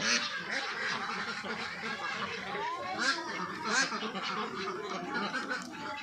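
A crowd of ducks confined on a duck farm quack and honk at once, making a dense, continuous babble of overlapping calls at close range.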